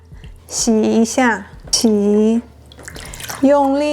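A dirty apple is washed by hand in water, with soft dripping and swishing mostly buried under close, continuous talking.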